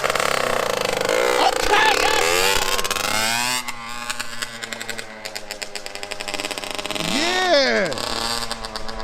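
A Honda CR85 dirt bike engine runs in first gear, buzzing and revving loudly up and down with a rising surge near the end, close by, while people talk over it.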